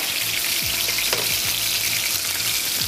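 A thin, lean meat fillet sizzles and fries in a pan, a loud, steady crackling hiss close up with faint stirring or scraping clicks and no talking.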